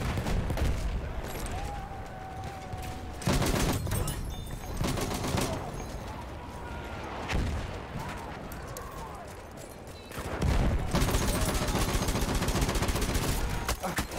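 Battlefield 1 gunfire crackles in repeated bursts and volleys on the Somme river map, loud and dense with louder surges near the middle and end, while players talk over it.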